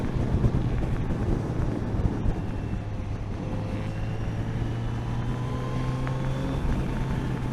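A 2020 Kawasaki Z900RS motorcycle is ridden on the road, its engine drone held low and steady beneath heavy, constant wind rush against the microphone.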